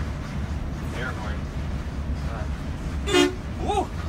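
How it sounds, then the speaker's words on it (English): An air horn gives a short, loud blast over background noise, followed moments later by a second, briefer toot. "Oh, I have a horn. Air horn"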